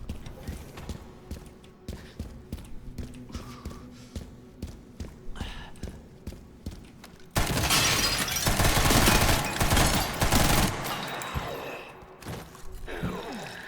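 Submachine gun fire in the video game Resident Evil Requiem comes as a dense, loud burst of rapid shots lasting a few seconds, after a stretch of steady rhythmic footsteps.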